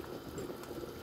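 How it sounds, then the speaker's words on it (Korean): Beef bone broth simmering in a pot, a soft, low bubbling that stays steady and fairly quiet for a brief moment. "이런 잣뼈를 핏물을 뺀 다음에 이렇게 푹 꼬아서 끓이고 있습니다"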